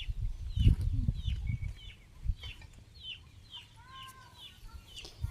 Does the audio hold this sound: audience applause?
no